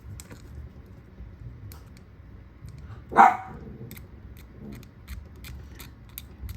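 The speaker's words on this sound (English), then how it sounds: "You barking at the dryer?" A dog gives a single short bark near the dryer, mid-distance, over low room noise and faint tapping or snipping sounds.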